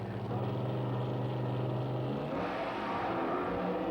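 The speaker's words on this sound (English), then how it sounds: "Wild wheel standing burnouts by both cars." Drag racing cars of the Wild Bunch circuit on a starting line, roaring loud and close through wheel-standing burnouts, with a steady low engine drone that shifts to a rougher, broader roar midway.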